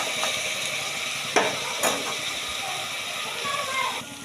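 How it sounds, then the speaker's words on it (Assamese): Onions frying in a pan until deep red, a steady close sizzle with a couple of sharp clatters of stirring, while a person talks over it. "এই পিঁয়াজখিনি মই ভাজি আছোঁ পূৰা ৰঙা হোৱালৈকে ভাজিম"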